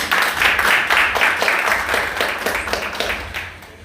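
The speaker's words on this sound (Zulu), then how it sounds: "ngicela ukuthi nibashayele ihlombe" An audience at the 150 Maskandi Festival 2025 launch claps in a dense, even burst of applause that fades slightly over about four seconds.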